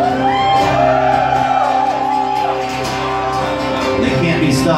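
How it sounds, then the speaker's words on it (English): Loud, continuous audience noise of cheering, shouting and whooping fills the whole stretch at a live Wednesday 13 acoustic stream, a dense roar of voices without pause. "There's that audience making noise again."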